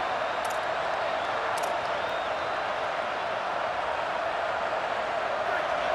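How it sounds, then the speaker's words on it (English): Dense, roaring stadium crowd noise in the College Football 27 video game, a continuous loud wash of cheering that holds steady without a break. "Listen to this crowd just shaking the girders of this place, trying to help their defense."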